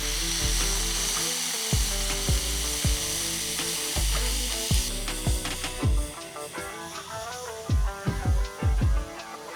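Brisket smash burger patties with thinly sliced onions sizzling on a hot flat-top, a steady loud fry hiss broken by repeated sharp metallic scrapes and clanks from a smasher and spatula, growing busier toward the end.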